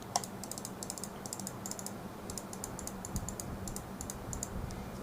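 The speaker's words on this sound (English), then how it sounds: "Left click" Left button of an Endgame Gear XM1r Dark Reflex wired gaming mouse clicked over and over in quick bursts, crisp and close-up, over a faint steady background hiss.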